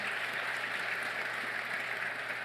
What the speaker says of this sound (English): So let's give the building trades a round of applause